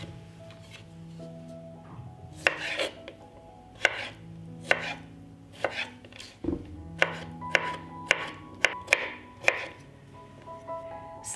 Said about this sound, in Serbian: Zatim ću iseckati 4 kisela krastavčića.